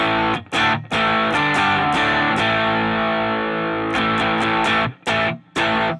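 A heavily distorted electric guitar through an amp's dirty channel rings out in sustained, gritty chords, with brief gaps where strings are muted between strums.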